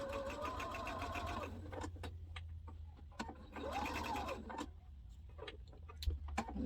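A domestic sewing machine stitching fabric for a memory bear, running in short whirring, rattling bursts with pauses between, near and fairly quiet, with soft handling clicks.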